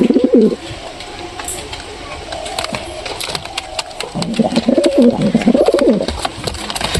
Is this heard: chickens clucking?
no